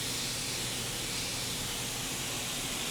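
A paint spray gun laying down silver paint over blue, a steady loud hissing spray running continuously without a break.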